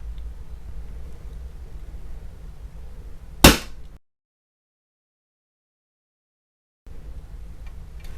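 An electrical spark snaps as a breaker trips during a grounding test on an electrical box: one sharp, loud crack stands out against a low hum, followed by a few seconds of dead silence.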